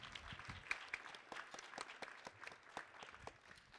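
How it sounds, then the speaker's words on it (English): Scattered applause from an audience at a scholarship pageant, individual claps standing out crisply over a thin, moderately distant crowd. "Let's give a big round of applause"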